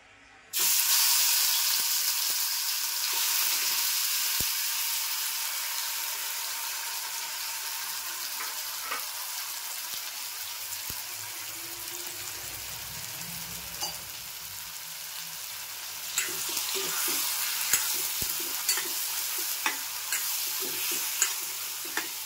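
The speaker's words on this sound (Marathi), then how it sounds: "तर आता मी फोडणीला टाकून घेते." Ground masala tempering sizzles steadily in hot oil in a wok for a Malvani fish curry, a continuous bright frying hiss with occasional stirring clicks and a louder burst of spluttering toward the end.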